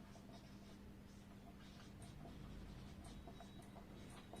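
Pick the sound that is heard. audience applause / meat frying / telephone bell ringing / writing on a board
writing on a board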